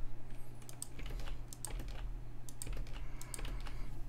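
Typing on a computer keyboard, a close, steady patter of irregular key clicks over a low hum, with no talk.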